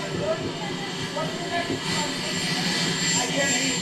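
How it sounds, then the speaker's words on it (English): A helicopter whirs steadily behind someone talking on a remote interview line, the rotor and engine noise filling the background under his voice. "I can't hear you too well. You have a helicopter."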